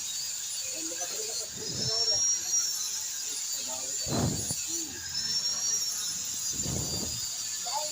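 An electric grinder whines steadily while sharpening a blade, a continuous high-pitched tone running throughout, with a few low thuds and bursts of handling noise.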